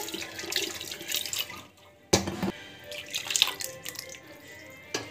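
Water splashes and pours into a cooking pot close by in uneven gushes, with a brief pause and then a sudden louder splash before it trickles on.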